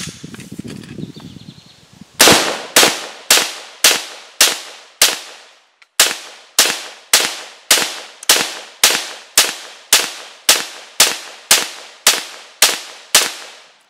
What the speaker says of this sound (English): We'll throw another mag down range just for good measure.